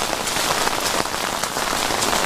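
Hard rain pours down steadily onto an outdoor pond and yard, a dense, continuous hiss of drops at close range with no voices.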